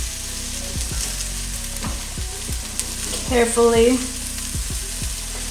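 Cauliflower sizzles steadily in a hot pan for a cauliflower fennel soup, with repeated stirring scrapes and a brief louder burst midway, under a short spoken word.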